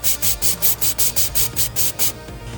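Sandblaster firing black diamond coal slag to strip quad Nerf bars, a harsh close hiss pulsing in quick regular bursts, then trailing off into a steady softer rush.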